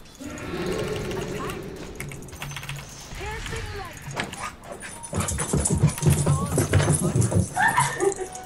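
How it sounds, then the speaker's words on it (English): A dog barks and yips excitedly in the background of a video game session, with several sharp bursts under steady talk and keyboard typing; the barking grows busier toward the end. "My dog going ape shit."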